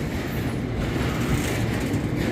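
Loaded freight wagons carrying aggregate roll past close by in London, a steady loud rumble with rushing clickety-clack wheel noise and no voices.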